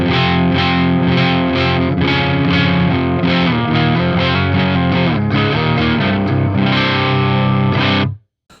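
An LTD EC-201FT electric guitar with a Seymour Duncan Slug pickup plays loud, saturated distorted chords and notes at close range. It rings continuously and then stops abruptly near the end.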